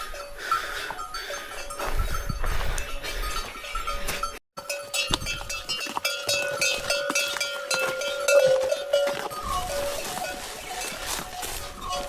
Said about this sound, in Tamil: அடுத்தது பார்த்தீங்கன்னா குதிரை வருதுங்க